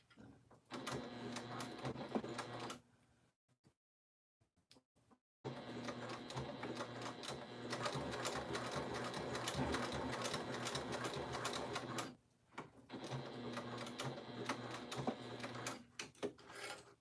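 A sewing machine stitches a pack with a short stitch length, running in steady, dense mechanical bursts close by, with a brief pause partway through and a short dip near the end.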